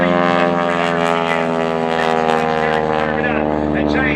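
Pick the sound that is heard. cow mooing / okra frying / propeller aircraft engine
propeller aircraft engine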